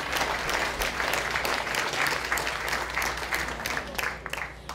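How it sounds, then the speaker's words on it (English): A room full of patient and caregiver symposium attendees applauds the breakout session leaders, steady dense clapping that holds at an even level throughout without talk. "So maybe we could just give a round of applause to the leaders of the breakout sessions."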